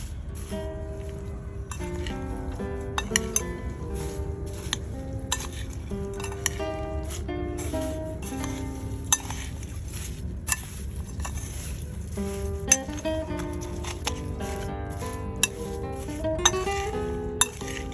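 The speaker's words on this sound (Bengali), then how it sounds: "সরষা তেল এখানে দুই টেবিল চামচ আছে এটার সঙ্গে আমি মিক্সড করবো" Chaat is mixed with mustard oil in a bowl with repeated light clinks and scrapes of a spoon, an uneven stirring rhythm over a low background hum.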